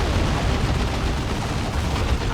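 Dense, continuous rumble of bomb blasts and gunfire in the Dawn of War II Retribution battle game, loud and steady throughout, with no distinct single bang standing out.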